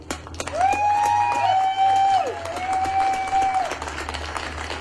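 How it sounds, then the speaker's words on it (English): An audience breaks into sustained applause, a steady crackle of many hands beneath a long, piercing whistle that rises, holds and fades, with the clapping thinning slightly toward the end. "So give yourselves a heartfelt applause."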